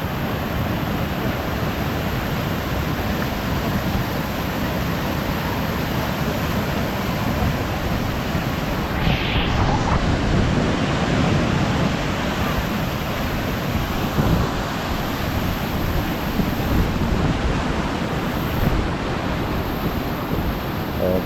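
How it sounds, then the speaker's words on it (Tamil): The Thaiyur waterfall near Chennai crashes down in a loud, unbroken roar of falling water that fills the whole scene, with no voices heard over it. "தண்ணி விழுற சவுண்டு பயங்கரமாக இருக்குங்க."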